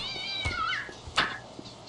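A cat in the Postal 2 video game meows twice in quick succession, a wavering drawn-out cry followed by a sharper short meow, close and clear with no talk over it.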